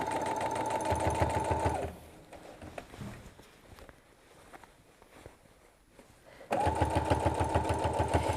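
A sewing machine runs along a clip-pinned lap quilt in two fast, steady bursts of rhythmic stitching, separated by a quieter pause with faint handling noises.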